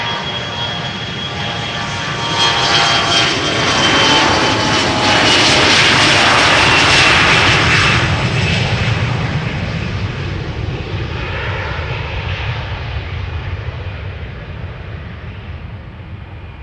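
An SAS CRJ900 regional jet departs Amsterdam Schiphol for Copenhagen, a loud close roar with a high turbine whine that builds, peaks, then slowly fades as it moves away, with no voices.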